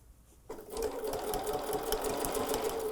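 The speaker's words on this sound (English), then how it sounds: "lay that flap down, and begin to sew again" After a brief quiet moment, a sewing machine starts stitching bias binding onto a curved fabric edge, giving a close, steady, rapid mechanical whir that runs to the end.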